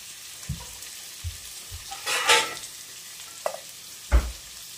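Potatoes sauté in a pan for a leftover rice snack, giving a soft sizzle broken by a few dull thumps and scraping stirs of a spatula, close and without voices.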